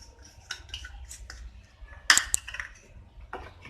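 A spoon clinks against a bowl while chopped onion and a green chilli are stirred into ragi (finger millet) dosa batter in a home kitchen; sparse, close light taps with one sharper clatter midway.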